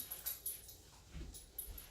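A dog whines and whimpers in a few high, thin bursts over about two seconds, close by in a quiet room set up for gentle yoga.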